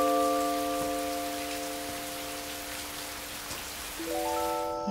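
Steady rain patters outside a mountain cave, a dense, even hiss throughout with faint background tones.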